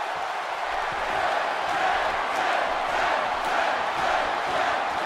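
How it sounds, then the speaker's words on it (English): A video game wrestling arena crowd in WWE 2K18 roars and chants steadily, a dense, sustained wash of many voices that swells slightly without breaks. "And the crowd chants for 10 again."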